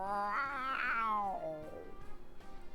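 A cat in Persona 4 Golden lets out a long, drawn-out meow that rises and then slides downward, close and clear, followed by quieter rustling.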